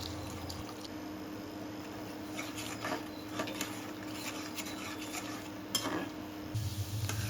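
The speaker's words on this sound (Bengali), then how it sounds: "কিছুটা পানি অ্যাড করে এটাকে ভালোভাবে নেড়ে চেড়ে কষিয়ে নেব" A spoon stirs a masala of chili powder, turmeric and salt with added water in a pan, scraping and clinking in irregular strokes close by over a soft steady sizzle, with no talk.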